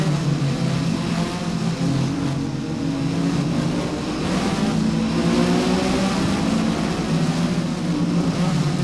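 Race car engine droning steadily at mid pitch as the car heads downhill into a forested section of track, a continuous loud roar with slight rises and falls in tone throughout.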